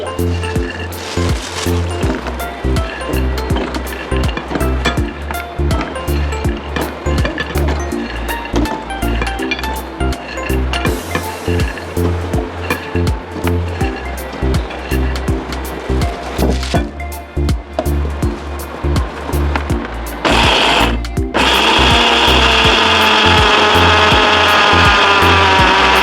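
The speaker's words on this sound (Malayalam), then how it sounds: "നമുക്ക് മിക്സിയിലോട്ട് ഗ്രൈൻഡ് ചെയ്യാം." A mixer grinder grinds roasted ingredients with a loud, close, continuous whir that pulses and rattles, then shifts to a higher, smoother tone near the end.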